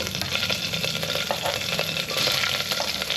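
Peppercorns and chillies fry in a pan with curry leaves, giving a close, busy crackling sizzle with small pops and stirring scrapes, steady throughout with no talk.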